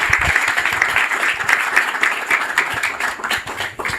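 Applause from an audience after a presentation on administration and tax policy, steady dense clapping throughout at fairly close range with no voices over it.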